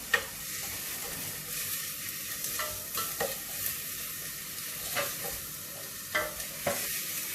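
Onions frying in a pan, a steady close sizzle with occasional light stirring clicks and pops spread through it, moderately loud and uninterrupted.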